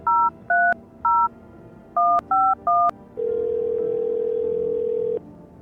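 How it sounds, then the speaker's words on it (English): A telephone is dialed in the video game No, I'm Not A Human: six short two-tone keypad beeps in an uneven rhythm, then a steady ringback tone holding for about two seconds before cutting off. "Can I use the phone to call Forrest yet?"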